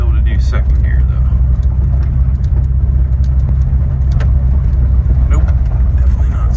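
A camper van with a partly rebuilt shifter labors along in low gear, its engine a loud, continuous deep rumble from inside the cabin, with bumps and rattles over the top.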